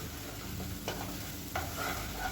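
Plantain fry being stirred in a pan at medium heat, a soft continuous sizzle broken by two sharp scraping strokes of the spoon, close and fairly quiet with no talking.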